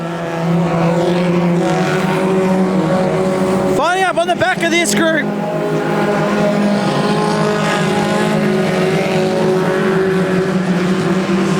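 Race cars on an oval track come through turns 3 and 4 in a close battle for position, their engines a loud continuous roar with a sharp pass-by sweep midway, while a commentator talks over the action.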